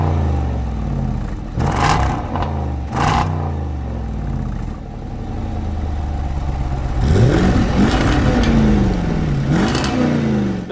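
A Jaguar F-Pace SVR with a supercharged 5-litre engine and a four-pipe exhaust is revved loudly from close range, giving several sharp blips and then rising and falling throttle sweeps over a steady idle.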